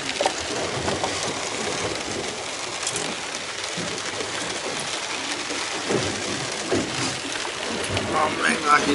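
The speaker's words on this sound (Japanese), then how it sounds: "雨がひどい。" Heavy rain pours down in a steady, dense hiss that fills the whole stretch, with brief louder splashes and patters rising now and then against the constant roar.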